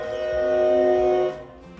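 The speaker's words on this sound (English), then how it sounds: "There's a train coming." A train horn in a Minecraft speedrun setting, a steady sustained tonal blare held for over a second before cutting off, with faint rumble beneath.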